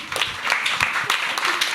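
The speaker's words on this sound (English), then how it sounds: "Round of applause." Audience at a music panel in a showroom breaks into a brief round of applause, dense close clapping from a modest crowd with a voice or two mixed in.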